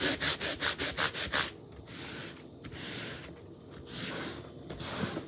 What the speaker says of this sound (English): I'm just kind of applying it and buffing it all at once.